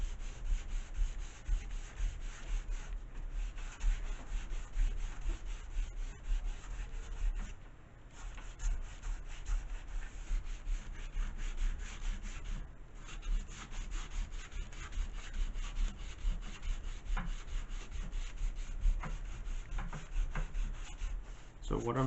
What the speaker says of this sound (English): I am sanding this all the way across here so it's flat along this area